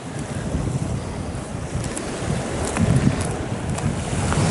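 Sea waves wash in steadily at Hellevoetsluis under strong wind buffeting the microphone, a loud continuous roar of surf with occasional louder surges.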